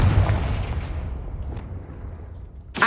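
A Confringo blasting-spell explosion in Hogwarts Legacy hits as a single loud, booming burst that rumbles and fades, followed by a sharp crack right at the end.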